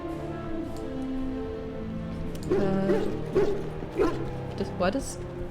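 A dog barks and yips a few times in Dragon Age: Origins, amid game background music and ambient sound, with voices talking around it.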